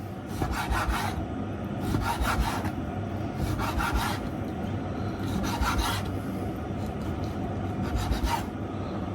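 Knife slicing beef into thin strips about half a centimetre wide with the fat left on, a series of rhythmic rasping strokes against a board, close and steady.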